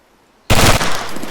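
Automatic fire from an SMG in ArmA 3 on full auto: a loud, close burst that starts abruptly after a short silence and rattles on steadily to the end.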